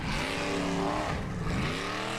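Supercharged off-road truck with a Ford Coyote V8 racing up a hill track at Icelandic Formula Off-Road in Egilsstadir, engine roaring loud and close with shifting revs and harmonic pitch sweeps throughout.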